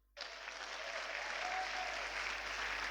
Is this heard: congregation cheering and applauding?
yes